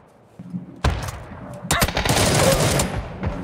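Automatic gunfire in PUBG during an esports scrim, with one isolated shot and then dense, rapid bursts of overlapping rifle fire, loud and sustained in the second half.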